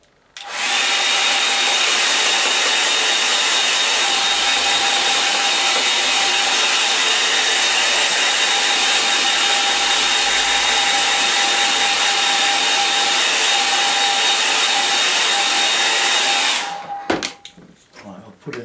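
A hair dryer blows steadily on a watercolour painting, a loud continuous whirring hum with a faint whine that runs unbroken for about sixteen seconds before switching off, followed by a few small clicks and knocks.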